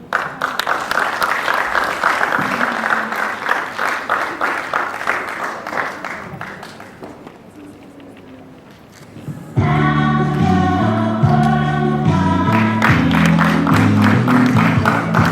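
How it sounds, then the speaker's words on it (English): A crowd applauds as performers take their bow and leave the stage at a ceremony: loud, rhythmic clapping for several seconds that thins out, then gives way to loud music with sustained tones. "A huge round of applause as they take their bow and leave the stage"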